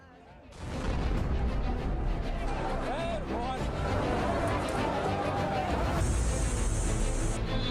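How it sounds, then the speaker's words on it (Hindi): A car bomb explosion near the historic Red Fort in Delhi, heard as a sudden loud blast followed by a sustained roaring rumble with crowd noise and voices mixed in. "दिल्ली में 10 नवंबर को ऐतिहासिक लाल किले के पास भीषण धमाका।"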